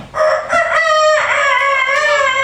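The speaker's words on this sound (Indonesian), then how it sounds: "Suara ayam." A rooster crows loudly and close by, one long drawn-out cock-a-doodle-doo with rising and falling pitch.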